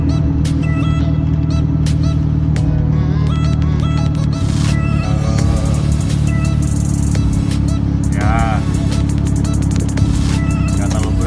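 A Honda Civic Nouva engine fitted with an Avanza AC compressor runs at a steady, loud, close idle with a continuous low hum. Faint chirps sound above it.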